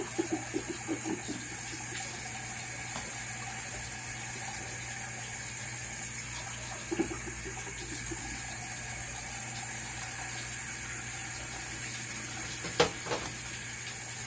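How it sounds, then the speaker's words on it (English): Hot water running from a tap into a measuring cup, a steady continuous flow with a few faint clinks near the start and a sharper knock late, heard alone without talk. "Okay, so I'm going to get 2 cups of hot water."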